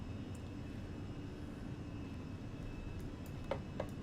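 Fenix A320 jet engines in a flight simulator during a go-around, a steady broadband roar held at an even level throughout, with a faint high whine and a couple of brief clicks near the end.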